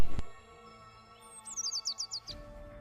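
A myna bird gives a rapid run of about eight bright chirps, close and fairly loud, after a sharp click. No one speaks.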